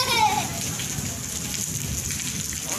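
Steady rain falls in Haveli Lakha, a dense, continuous hiss of drops on surfaces filling the whole stretch, with faint voices murmuring underneath.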